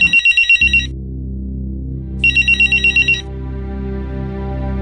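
A telephone rings in a crime drama scene: two clear bursts of rapid electronic trilling separated by a pause, over a low, steady musical drone.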